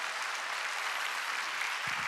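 A church congregation claps during a Korean sermon: steady, dense applause that holds at an even level throughout, with no voices over it.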